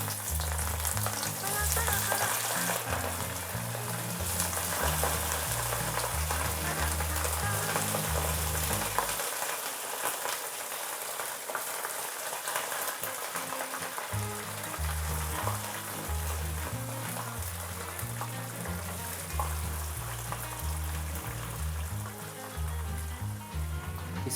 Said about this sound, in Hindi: अब हम इसके अंदर जो मैरिनेट के लिए हमने फ़िश को रखा हुआ था तो वो डालते हैं इसके अंदर